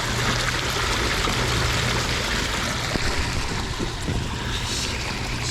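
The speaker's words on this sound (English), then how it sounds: "Looks like we got a water fountain over here." Steady splashing, rushing water from a fountain runs continuously at close range, a dense broadband wash with a faint low hum underneath and no voices, at Devonian Fossil Gorge near Iowa City.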